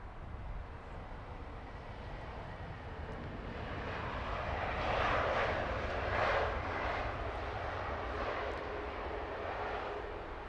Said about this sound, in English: Next arrival and centre stage on StatCam is Lufthansa 918. That's coming in from Frankfurt.